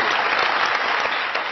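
Studio audience on a Pakistani comedy talk show applauds in welcome of a guest politician: dense, continuous clapping that stays steady and fairly loud throughout, with no voices over it.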